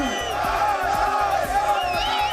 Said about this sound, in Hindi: सैकड़ों लोगों ने इजरायल के दूतावास के बाहर जमा होकर नारेबाजी की